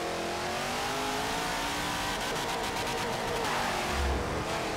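The Hot Wheels Twin Mill race car's engine in Forza Motorsport 7 on a racing wheel: a loud, steady, sustained engine roar that rises in pitch through the gears, with a brief shift dip near the end.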